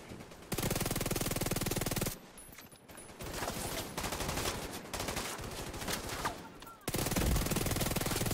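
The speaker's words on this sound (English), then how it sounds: "as soon as I start shooting" Gunfire in the video game The Division 2: long bursts of rapid automatic shooting, loud and sustained, with a brief pause before it resumes.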